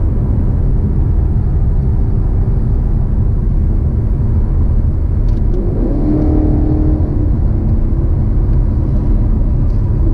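A Maserati GranTurismo engine droning steadily up close in sport mode, with a rising tone as it accelerates partway through, loud and continuous.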